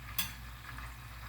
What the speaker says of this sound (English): if y'all hear that little sizzling sound, that's my food going